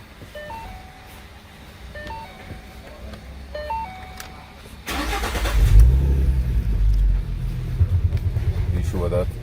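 A 2012 Ford Mustang with a manual clutch cranks and fires up partway through, its engine settling into a loud, close idle rumble with some revving, after a quieter stretch of soft chimes and a brief voice.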